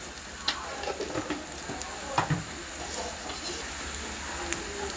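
Onions frying in a pan for a prawn curry, a steady soft sizzle and hiss with a few light scrapes and knocks of stirring, no talking.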